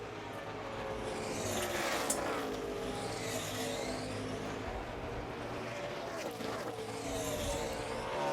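NASCAR Sprint Cup stock cars running final practice at Charlotte in 2008: loud continuous engine roar with repeated rising and falling passes as cars sweep by, under a commentator's voice.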